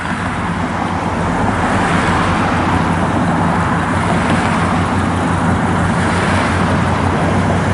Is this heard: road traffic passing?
yes